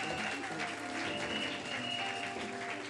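A church congregation applauding the Lord, dense, continuous clapping heard throughout with a loud crowd din and a musical hum underneath.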